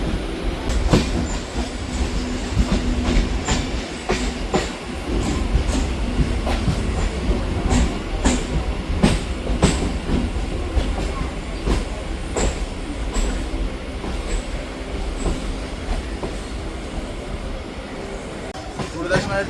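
A Kolkata suburban local train between Gurudas Banerjee Halt and Park Circus rumbles loudly along the rails, with continuous wheel roar, rhythmic clacks over joints and occasional metallic squeals, heard from inside the carriage.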